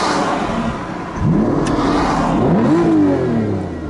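An Aston Martin DBS with a 6-litre V12 and manual gearbox revs hard, its loud engine note sweeping up and down in two rising bursts over a steady close rumble, with no talking.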